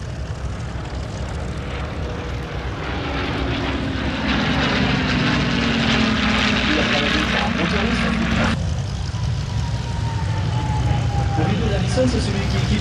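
A P-40 fighter plane's propeller engine drones steadily and loudly at an air show, its pitch sliding as it passes, with a voice talking faintly underneath.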